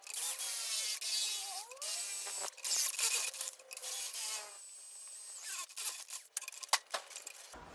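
A power drill with a 13mm bit bores holes in clamped metal during brake work on a Toyota Corolla drift car, a close whining grind with bursts, pauses and rasping scrapes.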